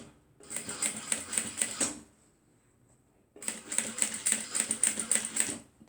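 A sewing machine stitching an X onto a handbag runs in two steady bursts of fast, buzzing needle strokes, separated by a brief quiet pause, close and fairly loud.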